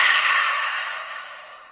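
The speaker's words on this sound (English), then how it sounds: "You can also do ocean breathing by inhaling audibly through your nose and then" Ocean breathing: a single long, audible breath drawn close through the nose, a breathy hiss that fades gradually, with no speech.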